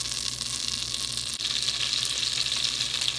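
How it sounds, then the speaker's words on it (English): Half a stick of butter melting in a pan for cooking a hen, giving a steady, even sizzle and hiss with one brief dip partway through, close and unbroken, with no talk. "A half a stick of butter. We're going to melt that."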